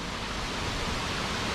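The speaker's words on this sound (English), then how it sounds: "hopefully I'll get the waterfall in." Waterfall pouring steadily nearby, a dense unbroken rush of water noise with no talk, constant in level throughout.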